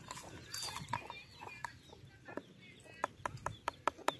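Chickens and chicks on a farm cluck and peep in short, sharp calls, scattered at first and then coming in a quicker run near the end, fairly close and alone without talk.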